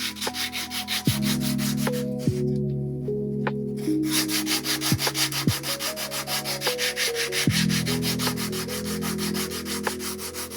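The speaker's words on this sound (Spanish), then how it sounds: "Primero se cortan y lijan bien las 3 piezas superiores" Small wooden pieces for the cover of a model T104 diesel railcar are sanded by hand in steady, rhythmic rubbing strokes, close and clear, with no voices.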